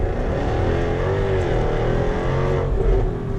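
A Jaguar F-Type R sports car accelerates hard, its engine note loud and sustained with a rising, rich roar throughout, heard close with no talking over it.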